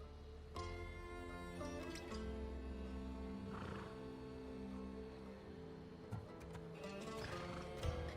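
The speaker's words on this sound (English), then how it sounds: "Little do you know that this is Hades' horse." Hades' horse in the video game Hades gives a loud, harmonic neigh and whinny over a busy backdrop of game music and effects, with short sharp accents scattered throughout.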